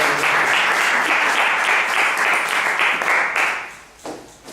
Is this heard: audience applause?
yes